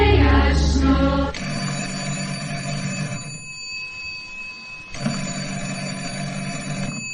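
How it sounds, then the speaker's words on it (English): An old telephone bell rings in two long metallic trills separated by a short silence, loud and close, after a brief musical passage at the start. "I'm not answering the phone today. Ring, you bastard, ring!"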